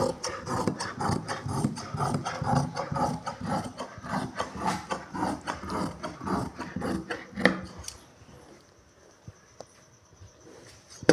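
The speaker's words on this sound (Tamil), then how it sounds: "இப்போ இதை வந்து இதே அளவில் வச்சு நம்ம கட் பண்ணி எடுத்துக்கலாம்" Scissors cutting churidar pants fabric, a steady series of crisp snipping strokes repeated at a brisk rhythm for about eight seconds, close and fairly loud, then stopping.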